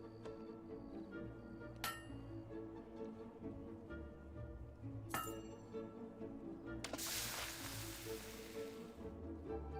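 In the Fable 2 video game, a hammer strikes a blade at a forge with sharp metallic clinks spaced a few seconds apart, over a steady low background of ambient game sound.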